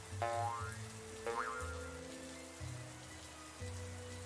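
Rain falling outside by a street crêpe stand, a steady soft hiss under low music with a few rising pinging tones.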